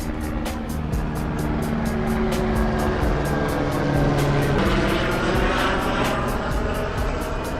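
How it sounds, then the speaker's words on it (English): A police helicopter passes overhead with a loud, steady rotor drone and a rapid, even chopping pulse that swells slightly midway, sustained throughout with no talking. "Helicopters, an ongoing theme in all my videos. Damn you, ghetto bird!"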